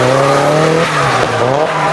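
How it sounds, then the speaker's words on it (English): D1 GP drift cars roar past at close range at Ebisu circuit in Japan, a loud engine howl with squealing tires that drops in pitch as a car sweeps by. "you can nearly touch the cars as they go by."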